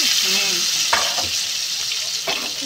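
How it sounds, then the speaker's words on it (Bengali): Eggplant pieces rubbed with salt and turmeric fry in oil four at a time, a loud, close, continuous sizzle with a couple of sharper spatters and a faint voice at the start. "বেগুনগুলোকে এরকম করে ভেজে নিতে হবে প্রথমে, 4টে করে দিয়ে ভাজবো।"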